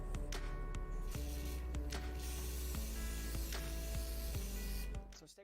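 Hair spray is sprayed onto the ridge of finger-waved hair in a retro styling session, a steady close hiss running almost continuously for about five seconds before cutting off.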